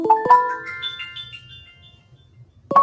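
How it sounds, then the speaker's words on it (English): Google phone ringtone, a bright melodic chime of rising notes that rings out, fades, then restarts sharply, close and clear with no talk over it. "Pick up my Google phone."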